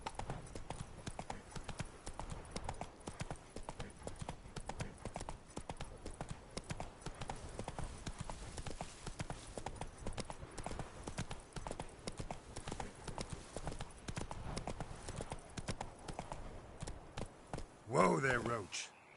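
The horse Roach gallops in The Witcher 3, with rapid, continuous hoofbeats close by at a steady pace, ending in a brief voiced call near the end as the horse is reined in.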